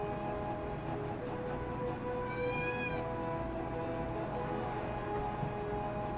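A cat meows once at a closed door, a single drawn-out, fairly faint meow rising over a steady background hum, with no voices.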